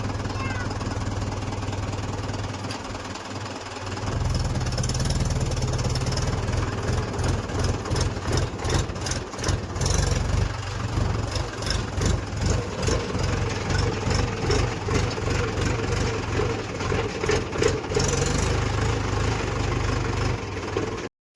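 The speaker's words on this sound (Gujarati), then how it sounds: "હાલ હરખું પકડજો આગળ લઉં છું ટ્રેક્ટર" A tractor engine chugs steadily nearby in a field during groundnut picking, its rhythmic knocking thump running continuously with a slight change in pace partway through as the tractor moves forward.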